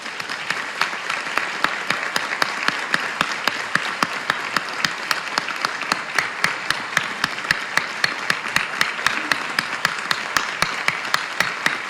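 Steady applause from a gathering of NGOs meeting with the National Assembly in Venezuela, with sharp, evenly spaced claps standing out over a continuous clapping bed, sustained at moderate level throughout.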